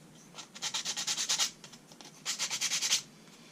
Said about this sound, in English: So I basically just sanded all the sides facing up on this little intersection here of this side guide.